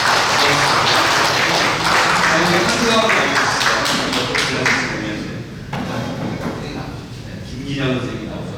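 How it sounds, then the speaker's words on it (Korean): An audience at a Korean lecture and discussion session in Pyeongtaek applauds loudly and steadily, the dense clapping fading toward the end as a voice begins to speak. "박수로"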